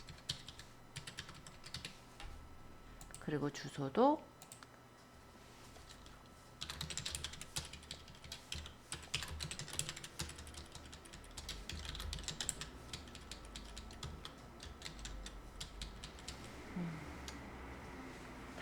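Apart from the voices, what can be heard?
typing on a computer keyboard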